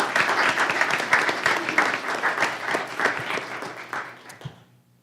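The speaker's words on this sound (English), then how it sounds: "So let's give those schools a round of applause." Applause for school sports teams breaks out among attendees at a governing board meeting, a fairly close burst of clapping that gradually thins and fades out over about five seconds.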